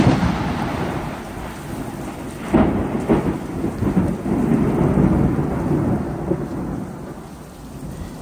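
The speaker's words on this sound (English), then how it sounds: "It's Tuesday morning and we're under a severe thunderstorm warning." Severe thunderstorm with heavy rain pouring steadily throughout, thunder cracking and rumbling loudly near the middle, and wind gusting beneath the downpour; no voices.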